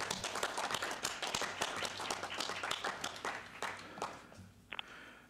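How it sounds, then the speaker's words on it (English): Audience at an arts commission meeting giving a round of applause, dense close clapping that thins and fades out toward the end, with a brief clink near the close. "So please join me in a round of applause for Mr."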